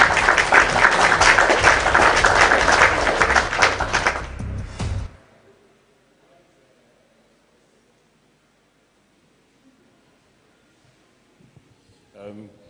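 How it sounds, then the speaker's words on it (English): Audience applause welcoming a speaker at a youth investment and personal finance event, a dense, loud burst of clapping lasting about five seconds before cutting off to near silence. "with a clapping ovation, join me as I make welcome Mr. Rotimi Obende."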